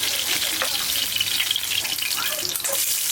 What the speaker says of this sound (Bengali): তেলটা খালি ফুটতেছে